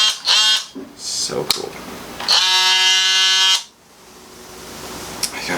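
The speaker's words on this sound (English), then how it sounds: "Brushless motor sounds so good." A Dewalt brushless oscillating multitool whines in a steady, loud buzzing burst for about a second, starting and stopping abruptly after short bursts of talk from a person nearby.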